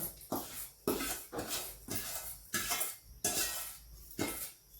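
Mung bean laddu flour dough being mixed by hand with fried edible gum in a metal vessel, a repeated scraping and clinking rhythm of about six strokes at close range, with no talk.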